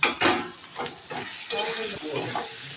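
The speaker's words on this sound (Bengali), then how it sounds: "ভালো করে এটাকে কষাতে হবে" Fish curry spices being sautéed in a pan with cumin powder, turmeric, chilli powder, onion and ginger: soft sizzling under repeated stirring and scraping of a utensil against the pan, fairly faint and close.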